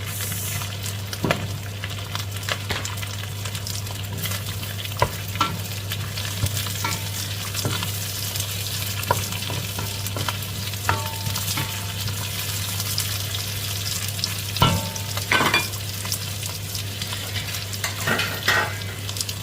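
Carrots stir-frying in a pan with bean sprouts and tofu, a continuous crackling sizzle broken by repeated scraping stirs and clinks, under a constant low hum.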